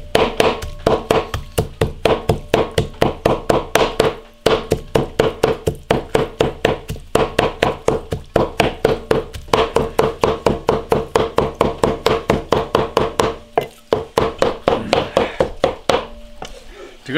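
A cleaver chops minced meat in a fast, relentless rhythm of close, loud knocks on a cutting board, with only a few short pauses over the whole stretch.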